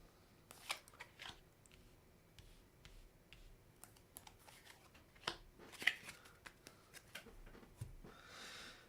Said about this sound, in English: So I'm going to lay out our 3 cards.